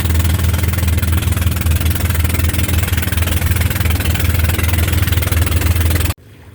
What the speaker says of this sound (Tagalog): sasakay na kami ng speedboat papuntang Once Islas